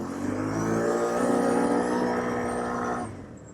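A stock 2017 Can-Am Outlander 850 ATV accelerates hard at close range, its engine note climbing steadily through a loud, continuous pull before easing off near the end.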